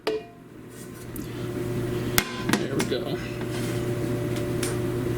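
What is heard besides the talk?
clothes dryer running in background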